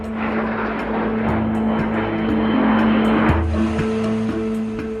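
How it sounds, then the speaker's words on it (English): A Sukhoi Su-25 jet fighter at an aerobatic display roars with a loud, steady engine drone and a constant hum, its tone shifting slightly partway through as it passes. "Among these aerobatic jet fighters is the Sukhoi 25."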